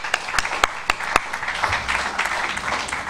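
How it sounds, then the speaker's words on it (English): An audience claps at a closing ceremony for a training programme, with a few sharp, loud individual claps standing out at first before the applause settles into a moderate, steady patter. "Let's give them a round of applause."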